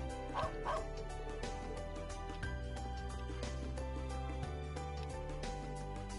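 A dog in the Trails of Cold Steel III video game barks and yips in a run of short, sharp calls over tonal game music that continues underneath.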